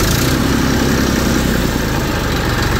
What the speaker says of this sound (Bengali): এই যে গাড়ির সাউন্ড